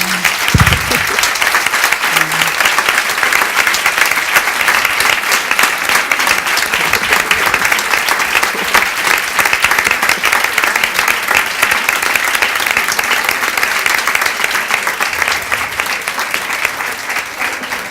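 A conference audience gives loud, sustained applause, a dense even wash of clapping lasting the whole stretch with only faint voices beneath it.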